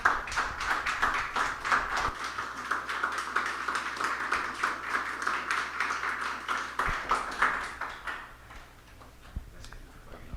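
Warm applause from a gathering at a religious talk on consecration to Mary, steady clapping with distinct individual claps that gradually thins and fades out over about ten seconds.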